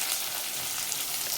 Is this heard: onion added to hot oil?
yes